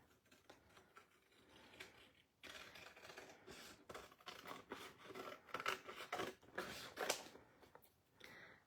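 Scissors cut out a stamped paper piece for a home decor craft project, giving close, quiet snips and rustling paper in an uneven rhythm, with no talking.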